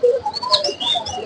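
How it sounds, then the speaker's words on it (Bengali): Cockatiels, budgerigars and lovebirds in an aviary setup chirp and whistle in overlapping bursts, close and lively, with high bright calls tumbling over one another and no talking. "ককাটেল পাখি আছে, এখানে বার্জিগার পাখি আছে, এখানে ককাটেল আছে, লাভবার্ড আছে"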